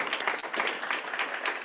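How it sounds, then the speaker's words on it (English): A reception audience gives a short, steady round of applause, brief and fairly close, with no speech over it. "All right, a round of applause."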